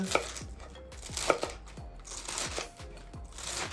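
A knife chopping scallions on a cutting board, about a dozen sharp close knocks in an uneven rhythm, heard alone with no talking.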